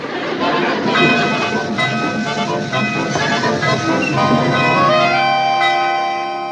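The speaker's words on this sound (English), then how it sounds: "by some miracle, he's managing to stop the train" A train rolls in with clattering, screeching wheels that slowly ease into a hissing stop, loud and close throughout.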